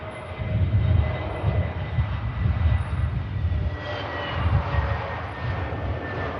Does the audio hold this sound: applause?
no